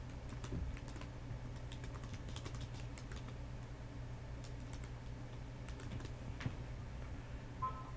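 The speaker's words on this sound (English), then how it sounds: "type in your text." Typing on a computer keyboard while entering text in 3D-printing slicer software: a steady stream of light, quick key clicks, close but quiet, with no talking.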